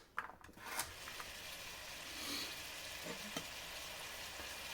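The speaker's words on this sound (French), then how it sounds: "J'ai mis un peu d'huile. Je vais faire revenir mes morceaux de viande 5 minutes de chaque côté" Small pieces of pork sizzling in a little oil in a sauté pan, a faint, steady frying hiss with a few soft stirring and scraping sounds and no talking.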